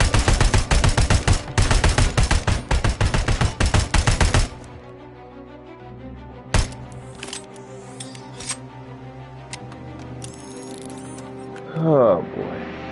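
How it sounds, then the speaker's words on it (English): A gun in RoboCop: Rogue City fires a loud, rapid, evenly spaced volley for several seconds, then stops, leaving quieter game sounds with scattered single bangs. A voice talks briefly. "Guns like this I don't like."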